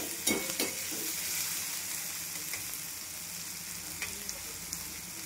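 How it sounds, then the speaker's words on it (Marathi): Tomatoes and reddened onions frying in oil, a steady close sizzle with a few sharp clinks and scrapes of stirring scattered through. "छान असे टमाटे भाजून घ्यायचे"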